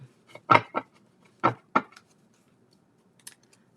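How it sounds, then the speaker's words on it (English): A few quick papery riffles and light slaps of shuffled tarot cards, close and soft, with gaps of quiet between them. "Couple more shuffles."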